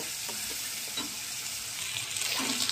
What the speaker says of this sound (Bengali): এবারে আমি পেঁয়াজ, আদা, রসুন বাটাটা দিয়ে দেবো। এটা ভালো করে ভাজা ভাজা হয়ে গেলে